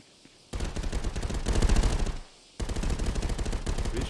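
Rapid automatic gunfire in the VR shooter ContractorsVR, two loud sustained bursts of fast repeated shots separated by a brief pause, close and alone with no talk.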